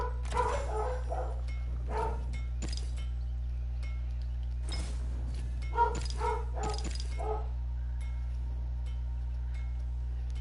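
A dog barks loudly in short bursts of several barks, separated by pauses, over a constant low electrical hum.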